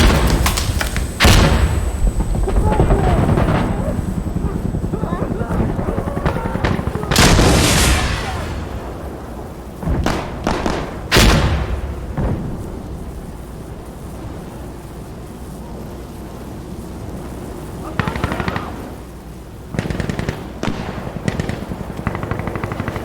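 Artillery shells exploding in the shooter game Insurgency Sandstorm: several loud, booming blasts burst out among rapid gunfire, then ring out into a rumbling background before more distant thuds.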